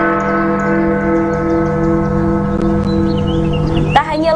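A clock tower bell in Bukittinggi rings out the hour with sustained, ringing tones that hang steadily in the air, ending in a brief clatter.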